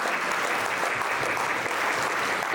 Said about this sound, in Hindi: एक जोरदार तालियों से हमारे प्राचार्य महोदय के लिए तालियों से हार्दिक हार्दिक स्वागत करते हैं